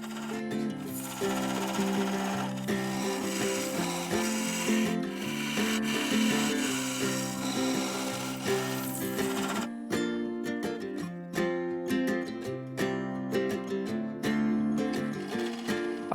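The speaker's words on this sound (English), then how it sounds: "Switching to the full-size carbide, I began blending and fairing the inner surface, creating a sweeping curve down into the base." A full-size carbide tool cuts the inner surface of a segmented wooden bowl on a lathe, making a steady scraping, rasping hum over a tonal motor whine. The texture shifts partway through to sharper, choppier scraping.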